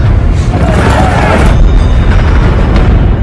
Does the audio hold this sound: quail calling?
no